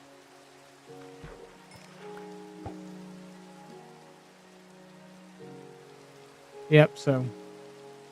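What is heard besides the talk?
rain falling in Minecraft video game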